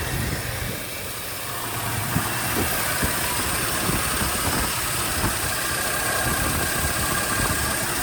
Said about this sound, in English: Got the electric pump to it, it's working.